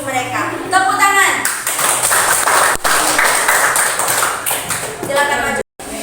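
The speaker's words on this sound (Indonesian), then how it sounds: "Tepuk tangan." Pupils in a classroom clap for a group called up to present, a scattered burst of close handclaps rising amid a teacher's speech, with taps and shuffling around it.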